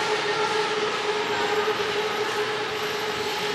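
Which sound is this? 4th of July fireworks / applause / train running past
train running past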